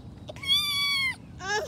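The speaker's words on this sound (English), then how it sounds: "So we just caught this little kitten running around in the house." A little kitten caught running around a house gives two clear meows, a long drawn-out cry followed by a shorter one, close and fairly loud over a quiet room.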